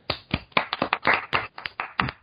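A short burst of hand clapping, about a dozen distinct, close claps in a quick, slightly uneven rhythm.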